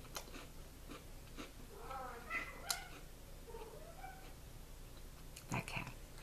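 A house cat meows faintly in a quiet indoor room, a few soft, short calls spread out over light rustling and handling noises.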